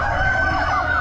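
A rooster crows loudly and close at an Amish animal auction, one sustained strained call filling the whole moment with no talk over it.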